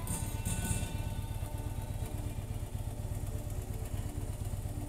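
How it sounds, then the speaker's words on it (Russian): A heavy touring motorcycle backs down a steep gravel descent on a mountain pass road in Slovenia, its engine a steady low rumble with loose stones clattering and crunching close by throughout. "Щебенка для такого тяжелого мотоцикла зло."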